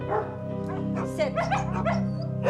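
Dogs in a home with nine of them yip and bark in quick, high bursts that overlap with whimpering, close and lively, mixed in with a person's speech.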